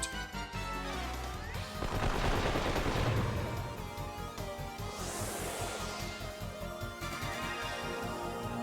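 Gunshots ring out in a battle in the video game Wild Arms 3, a rapid stream of loud cracks mixed with swooshing effects and a steady rhythmic game music beat underneath.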